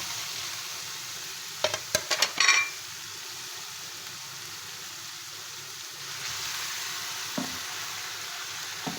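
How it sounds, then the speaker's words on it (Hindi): Chicken sautéing in a pan with garlic and ginger gives a steady close sizzle and hiss, with a few sharp clattering stirs early on and a brief clink later, and no talking. "अब हम इसमें चिकन डाल के सौटे करेंगे।"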